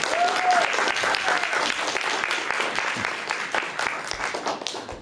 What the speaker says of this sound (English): Round of applause for Candace.